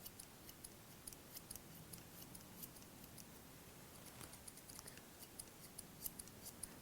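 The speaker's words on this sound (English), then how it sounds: "all I'm doing is cutting that little bit of hair on the base of the comb" Scissors snipping hair over the base of a comb while cutting a combover with low fade, a quiet rapid series of light crisp clicks at a close, even rhythm.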